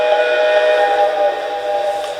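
The whistle of a Lionel Reading Camelback model steam locomotive sounds close and loud as one continuous, reedy chord without quilling that holds steady, then softens slightly toward the end.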